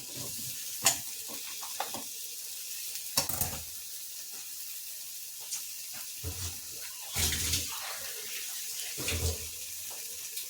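Drumstick (moringa) mezhukkupuratti, an Ernakulam-style Kerala dish, is stir-fried in a pan, with intermittent scraping and stirring bursts and soft sizzling between them, close and fairly quiet, and no talking.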